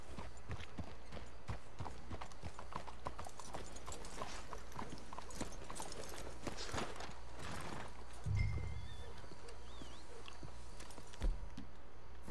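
Steady clip-clop of horse hooves on hard ground in the video game Red Dead Redemption 2, with a busy ambient background, a horse whinnying and snorting briefly partway through.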